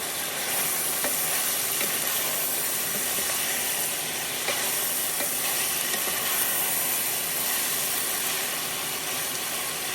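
Maple-infused New England chili cooking in a pan, a steady sizzling and bubbling hiss that holds even throughout, close and moderately loud with no talking.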